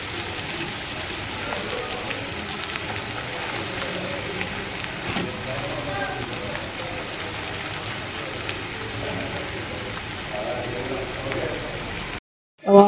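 Chopped onions, ginger, garlic and curry leaves sizzle steadily in a hot pan for clam fry, a dense continuous crackle close up that cuts off abruptly near the end.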